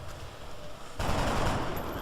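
A soldier fires in the video game XCOM: Enemy Within: a sudden dense burst of gunfire kicks in midway and rumbles on steadily to the end, loud against a faint game backdrop, with no voices.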